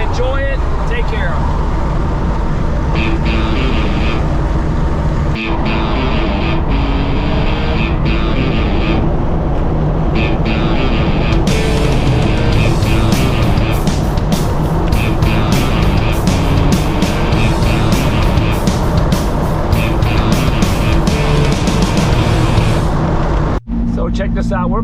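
Hot rod car engine cruising steadily at about 3,000 RPM on a country road, a continuous loud drone with road noise, while someone talks over it throughout.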